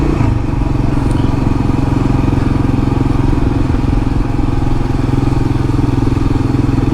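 A KLR-650 motorcycle cruising on new tyres, a steady loud engine drone with wind rush, unbroken and close throughout with no speech.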